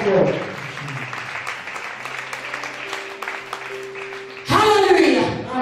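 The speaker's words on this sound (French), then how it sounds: "Acclamez très fort, très fort." A church congregation breaks into loud cheering and applause near the end, a sudden dense burst of clapping and shouts after a stretch of crowd noise and sustained tones under speech.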